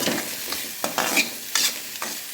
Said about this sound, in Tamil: கொஞ்சம் நல்லா ஃப்ரை பண்ணி கொடுக்கணும்.